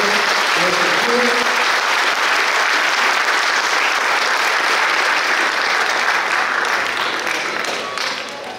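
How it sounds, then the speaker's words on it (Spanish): Sustained loud applause from an audience honouring students at a graduation ceremony, a dense steady roar of many hands clapping that holds for most of the clip and tapers slightly at the end. "Un fuerte aplauso para los estudiantes y para los estudiantes"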